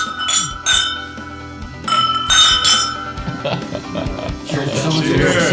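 Glasses clink repeatedly in a whiskey toast, bright short chimes scattered over a few seconds amid a roomful of overlapping cheerful voices and background chatter.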